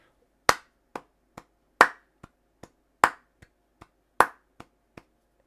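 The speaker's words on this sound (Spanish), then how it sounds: "si estás tocando las palmas con la sevillana" Flamenco palmas, sharp hand claps in a sevillana 3/4 rhythm, with louder accented claps recurring among lighter ones in a steady cycle, close and clear with no talking.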